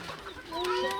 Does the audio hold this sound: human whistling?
no